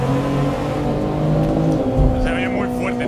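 A tuned car's engine in the Assetto Corsa racing game hums and revs steadily at moderate loudness, with a brief rise in pitch near the end while people talk over it.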